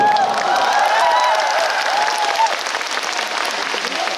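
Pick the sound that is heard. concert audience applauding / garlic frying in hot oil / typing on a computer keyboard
concert audience applauding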